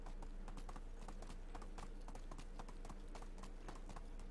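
A horse is ridden across the ground in the Medieval Dynasty video game, its hooves making a steady, rapid clip-clop rhythm that stays close and continuous throughout.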